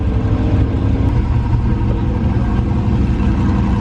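A stock twin-turbo Chevrolet Silverado pickup engine rumbles steadily at close range, a loud, continuous low-pitched idle with slight revving character and no voices.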